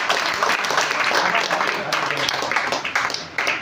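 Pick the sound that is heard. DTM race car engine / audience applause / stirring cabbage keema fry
audience applause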